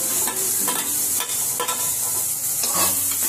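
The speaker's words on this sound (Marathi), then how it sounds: "सर्व चांगला परतून घ्यायचं, चांगलं हलवून घ्यायचं सर्व." Carrots and other vegetables with green chillies are tossed in a little oil, with a steady loud sizzle and repeated rhythmic scraping stirs close by.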